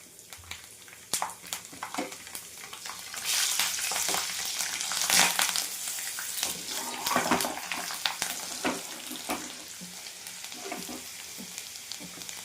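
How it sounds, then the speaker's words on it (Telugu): Curry leaves and garlic fry in hot oil in a pan for an okra curry, a steady close sizzle with spatter swells and stirring scrapes throughout, with no talking. "ఇప్పుడు కొంచెం ఫ్రై అవ్వగానే కరివేపాకు, వెల్లుల్లిపాయలు,"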